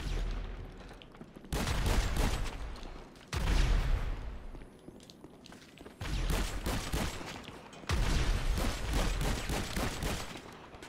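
Enemy gunfire in GTA 5 Online, heavy bursts of shots arriving in several loud surges separated by brief lulls, booming and dense like rapid automatic fire.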